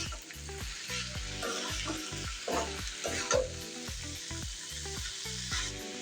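Bottle gourd peel fries and is stirred in a pan, with a soft continuous sizzle and occasional scraping strokes under steady background music.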